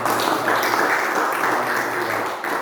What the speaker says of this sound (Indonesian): Beri tepuk tangan dan kemuliaan bagi Tuhan.